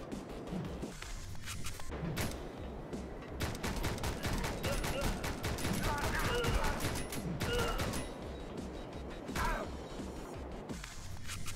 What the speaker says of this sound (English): those things on top are shooting at me